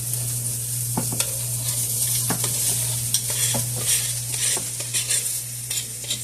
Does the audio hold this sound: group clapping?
no